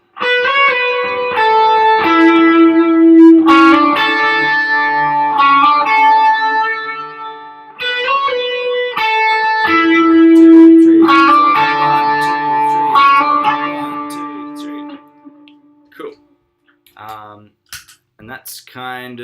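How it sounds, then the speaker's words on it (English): Distorted electric guitar plays a quick melodic run of picked notes that ring out with echoing delay, then fades into a few faint taps. "We do that with some delay and with some distortion"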